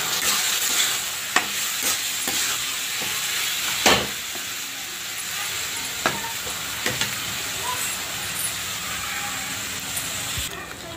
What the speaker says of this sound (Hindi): इसी में हम बारीक कटा हुआ टमाटर डाल देते हैं।